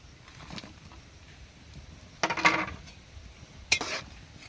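A metal utensil scrapes and clanks against a cooking pot of fried tinapa (smoked fish) waiting to boil, in two brief bursts, with quiet kitchen ambience in between.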